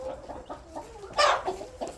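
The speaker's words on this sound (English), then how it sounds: "I never thought I'd have this many chickens before." A flock of chickens clucks steadily in short, rhythmic calls, with one louder squawk midway through, close by and with no talk.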